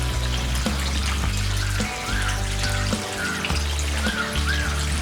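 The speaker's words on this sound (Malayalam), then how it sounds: "ഇപ്പം ഇന്ന് നമുക്ക് വെള്ളം ടോപ്പപ്പ് ചെയ്യാം." Water pours steadily from a pipe or hose to top up a Giant Gourami fish breeding pond, a continuous splashing gush with faint bird calls in the background.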